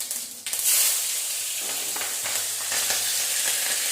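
Cumin seeds hitting hot oil in a pan for daliya, starting with a sharp burst of crackling sizzle that settles into a steady, fairly loud frying hiss with a few light stirring scrapes, no voices.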